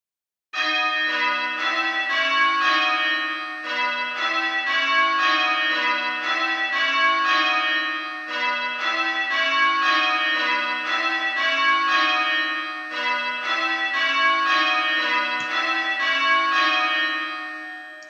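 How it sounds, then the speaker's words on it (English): A ring of church bells peals in change-ringing order, the strokes following one another in a steady, even rhythm. The bells sound loud and clear and carry on unbroken, with no voices, before fading at the end. "number two is the last bell down, the last bell to ring"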